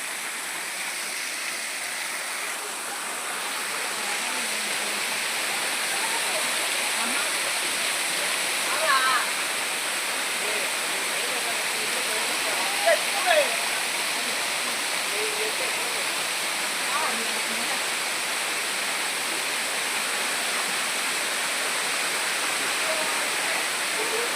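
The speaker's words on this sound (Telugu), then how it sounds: "ఇది పాలకొండ వాటర్ ఫాల్స్" The Palakonda waterfall near Kadapa, India, roars steadily throughout, a dense, even wash of falling water, with faint voices briefly audible beneath it.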